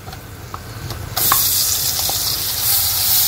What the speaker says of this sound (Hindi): सभी मसालों को लगातार चलाते हुए अच्छे से भून लेंगे